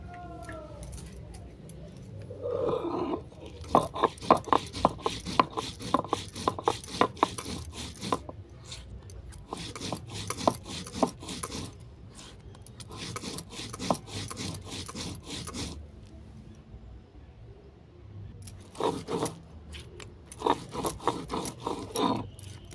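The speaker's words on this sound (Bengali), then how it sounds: "এরপর শিলের মধ্যে আমি সরষেটাকেও বেটে নেব।" White mustard seeds ground on a stone slab with a grinding stone: long runs of quick, rhythmic scraping and rubbing strokes with gritty clacks, close by, broken by short pauses.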